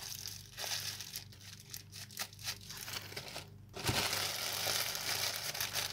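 Material for a homemade squishy is cut into pieces, giving close, repeated crinkling and crunching snips, with louder dense rustling toward the end and no talk.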